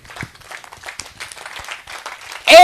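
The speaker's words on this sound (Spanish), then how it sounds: "Dale un fuerte aplauso al que vive." Church congregation at a Nazarene service in Tomaycuri claps in a steady, moderately loud patter, with a sharp, louder burst of noise at the very end.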